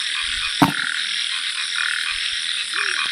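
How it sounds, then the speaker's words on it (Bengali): Many frogs croak on a rainy night in a Sundarbans village, forming a dense, continuous chorus of loud, trilling calls close by, with one sharp knock early on. "বৃষ্টির দিনে চারিদিকে ব্যাঙ ডাকছে"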